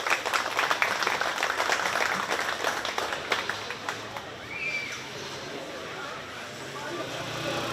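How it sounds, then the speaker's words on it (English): Audience applause for the children at a 4-H sheep and goat show at a county fair, a dense burst of clapping that swells and then thins out, with a voice talking faintly beneath it. "Let's give all three of those kids a big round of applause."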